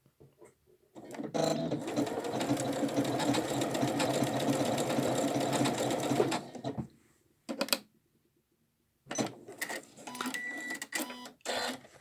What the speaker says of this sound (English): let's just sew a little bit on this for a second